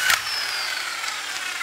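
A corded electric tool with a 17 mm socket removing bolts on an Audi TT, a sharp hit at the start followed by a steady whirring buzz that lasts the whole short moment, close and fairly loud.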